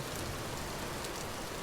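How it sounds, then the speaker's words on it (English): Steady rain falls in the survival crafting game Vintage Story, a dense and even hiss with no other sounds. "They're getting rain right now"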